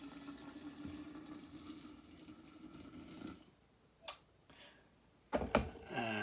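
Warm water runs steadily for brewing Kilju sugar wine, a faint continuous pour for about three seconds, then stops, followed by a few brief knocks and clatters.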